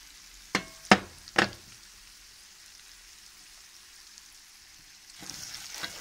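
Fresh spring onions hitting a hot pan for sautéing: three sharp sizzling bursts close by, then quiet, followed by a softer renewed frying sizzle at the end.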